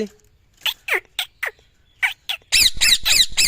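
A talking parrot squawks loudly up close: a run of sharp, separate shrieks, then a rapid burst of four harsh, raspy calls in quick succession.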